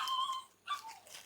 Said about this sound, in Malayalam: നമ്മുടെ ഹസ്കി പപ്പി